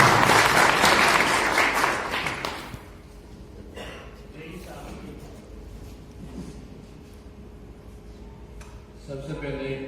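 An audience at a Rashtriya Khatik Mahasabha education gathering claps loudly for the first few seconds, then the applause fades away and a voice talks over a quieter room with light crowd murmur.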